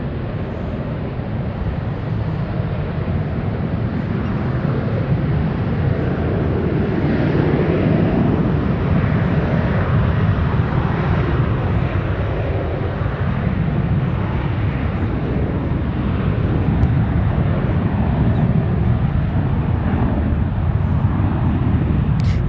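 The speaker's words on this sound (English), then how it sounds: "United taking off on runway 1 left" A United airliner takes off from runway 1 left at San Francisco, a loud continuous jet engine roar that holds steady and swells slightly throughout.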